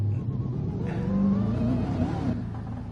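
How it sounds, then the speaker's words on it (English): A car engine in the racing game GT Sport, a modified Ford GT with Mustang parts, drones steadily with a low rumbling tone that rises and revs slightly, holding at a constant close level throughout. "There you go, listen to that engine."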